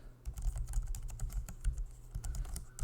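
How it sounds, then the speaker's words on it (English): Quick bursts of key clicks as a command is typed on a computer keyboard, close and quiet, a rapid uneven patter of taps with no voices. "And then I'm going to type in export."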